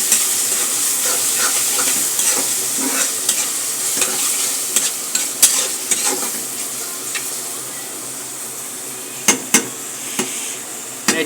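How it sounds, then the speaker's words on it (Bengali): Tomatoes are stirred into fried onions and chilies in a hot pan. A continuous close sizzle runs underneath as a spatula scrapes and clicks against the pan in irregular strokes, with a few sharper knocks near the end. "এখন টমেটো দিয়ে মরিচ পেঁয়াজটা সহকারে ভালোভাবে সুন্দর করে নাড়াচাড়া দেব।"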